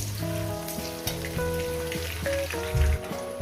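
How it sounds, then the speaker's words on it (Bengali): Potatoes frying in oil for a cauliflower, potato and poppy-seed curry, a steady soft sizzle running beneath background music with no one talking. "আলুটা আগে দু মিনিট ভেজে নেবো"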